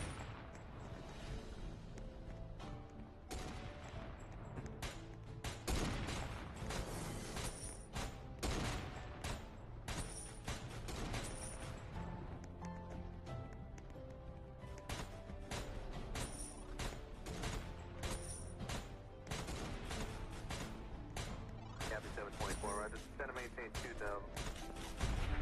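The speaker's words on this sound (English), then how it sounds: "Airstrike is just too good." Airstrike explosions in a multiplayer video game land as a rapid, dense barrage of booms and gunfire-like blasts, loud and continuous over half a minute, with game effects and voices mixed in.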